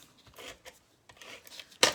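Short bursts of scissors snipping through a scrap of paper for card making, a few soft cuts ending in one sharp, louder crunch, close and with no talk.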